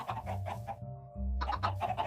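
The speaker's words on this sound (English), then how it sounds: "Are you a grown-up chicken?" Chicken in Minecraft clucking: a run of short rhythmic clucks, a brief pause, then another quick series of clucks, close and clear with no voices.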